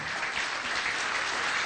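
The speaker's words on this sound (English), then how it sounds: "So let's give her a big round of applause" An audience claps at a community forum in a dense, steady burst of applause that holds evenly for the whole short stretch.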